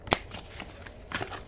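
Tarot cards being shuffled by hand, heard as quick papery riffles and soft slaps in a few short bursts, fairly close and with no talking over them.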